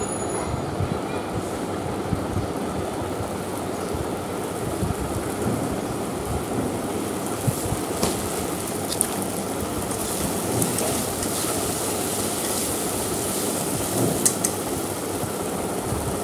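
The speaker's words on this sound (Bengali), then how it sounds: "এবার আমি মশলাটাকে ভালো করে কষিয়ে নেব।" Spice masala frying in a pan over medium heat for Bengali masoor dal bora, a dense, steady hiss and crackle of sizzling that runs throughout, fairly loud and with no talking.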